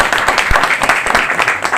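A crowd at a monthly AIMIM political meeting in Moradabad claps vigorously in welcome, a short dense burst of applause with a few sharper individual claps standing out.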